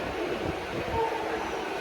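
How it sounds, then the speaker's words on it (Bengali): Steady low rumble and rattle of riding inside a moving train, continuous and even throughout, with no talking. "আমরা ট্রেনে বসলাম, ট্রেনটা অলমোস্ট ফাঁকা আছে"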